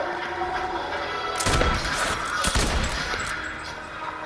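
Fortnite gunfire: a short clatter of battle-royale weapon shots, with two or three sharp, loud cracks standing out over a steady background of game noise, no talking.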